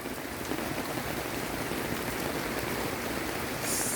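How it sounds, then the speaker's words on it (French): Rain pours down at Myrtle Beach with a dense, even hiss of drops pattering on surfaces, continuous and fairly loud throughout, with no voices. "C'est à ça que ça a de l'air quand il pleut à Myrtle Beach."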